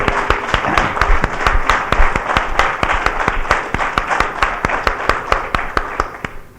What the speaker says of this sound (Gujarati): કુંદનભાઈને તાળીઓના ગડગડાટથી વધાવી લઈએ